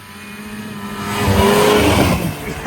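Snowmobile engine in warm mountain conditions, damaged rear wheels, approaching and swelling louder as it revs, a steady motor drone building to a peak near the end.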